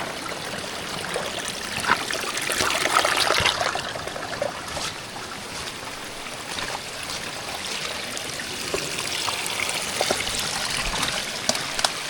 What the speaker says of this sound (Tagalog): Umaagos yung mga tubig.